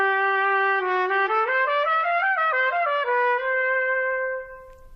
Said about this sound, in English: When you put the mouthpiece into the trumpet, it sounds like this.